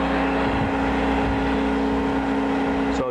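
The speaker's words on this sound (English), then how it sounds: "I have this up to grind a plug lead right now, so I'll turn it on" A tool and cutter grinder runs with a steady mechanical hum and whine while set up to grind a plug tap on the side face of its wheel, constant and close, ending with a short clatter.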